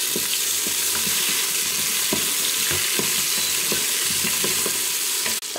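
Garlic, onion and tomato sauté in a pan for beef caldereta, giving a steady broadband sizzle with repeated scraping stirs throughout, close and moderately loud, with no talking.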